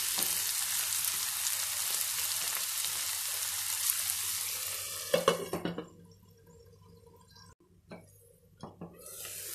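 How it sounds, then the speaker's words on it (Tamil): Onions and tomatoes cooking down on a low flame for a matar paneer masala, a soft steady sizzle that drops away midway, followed by a few faint clinks and scrapes. "வெங்காயமும் தக்காளியும் நல்லா வதங்கிடுச்சு"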